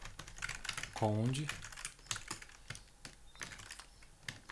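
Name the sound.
typing on a computer keyboard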